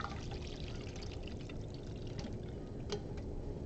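Cooled vegetable stock for risotto is poured into a pot, a soft continuous splashing trickle that runs throughout, with a few faint clinks.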